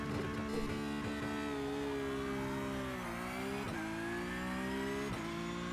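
A sim racing car launches and accelerates hard from a standstill, its engine note rising loud and steady through several quick upshifts, each marked by a brief dip in pitch.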